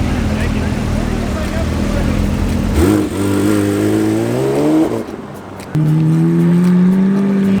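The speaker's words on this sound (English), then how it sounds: "On that note, that V12 note" Aston Martin V12 engine at a Car Week 2022 show, revving with rising and falling pitch in several loud bursts close by, a brief dip before a strong steady drone resumes.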